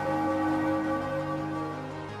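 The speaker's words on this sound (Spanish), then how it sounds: "Y como podéis escuchar ahora, se escucha la campana" Bell sound effect from an RPG Maker 2003 game, a sustained ringing tone with steady harmonics that holds evenly for about two seconds, moderately loud and alone.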